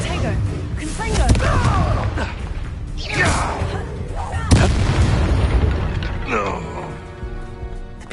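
A Confringo blasting spell goes off in a Hogwarts game, a booming explosive burst with crashing impacts amid several loud whooshing hits, mixed with game music and voices.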